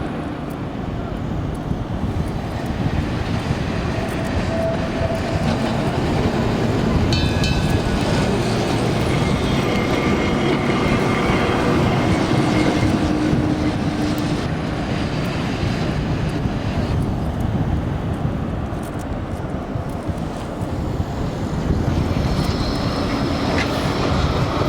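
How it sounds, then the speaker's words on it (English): A modern Blackpool tram rolls through the illuminations, a continuous loud rumble with rattling wheels and clattering rail noise throughout, with faint voices in the background. "This is one of the most up-to-date modern trams that have been added recently."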